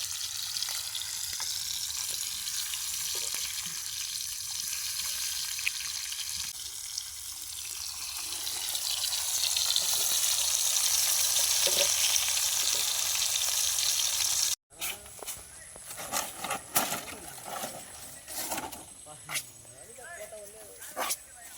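Fresh river fish fry in a pan with a steady, loud, hissing sizzle. It runs continuously and then gives way after a brief break to busier crackling, with voices present throughout.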